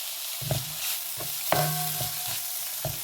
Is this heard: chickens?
no